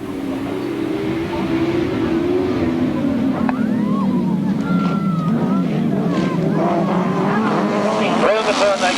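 Grasstrack motorcycles racing on a 1992 Scintillator 600 meeting circuit, a steady loud engine drone that rises and shifts in pitch as the field runs, with a commentator talking over it throughout.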